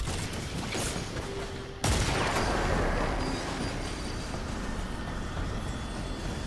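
Rapid gunfire from a powerful weapon in the Dead Man's Tale video game bursts in suddenly after a quieter stretch and keeps up as a dense, loud, continuous clatter of shots.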